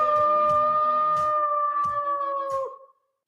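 A loud, sustained howl sound effect in a radio ad for the Howlers team, a steady wavering tone with rhythmic thumps beneath it, fading out after about three seconds.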